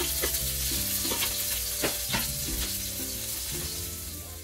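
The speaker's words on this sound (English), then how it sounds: "Add your vegetables to the wok." Vegetables fry in a hot wok for jerk pork fried rice, making a continuous close sizzle broken by several clanks and scrapes from stirring, with no talking.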